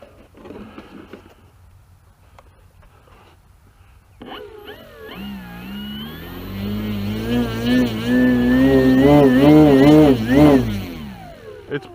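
A homemade flying lawnmower engine starts up and climbs to full throttle, a loud droning whine with strong pitch wobble and heavy vibration that holds for several seconds before easing off; some faint talk comes before it.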